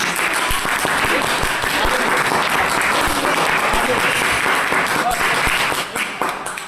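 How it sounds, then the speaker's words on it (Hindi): A group of students claps during a chemistry titration practical in a lab, a loud, dense burst of applause that holds steady for several seconds before tapering off, with voices mixed in. "देखिए आप ताली बजाइए"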